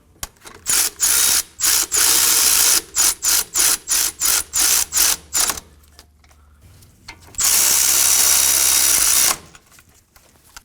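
Ratchet clicking while tightening the front brake caliper bolts on a 2016-2020 Kia Sorento, with loud bursts of rapid pawl clicks in short repeated strokes followed by one longer continuous run.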